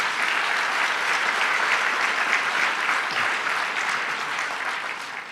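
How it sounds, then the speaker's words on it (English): A large audience claps at a business association event, dense and sustained applause at steady volume that tapers slightly at the end. "Let's give Bill a round of applause"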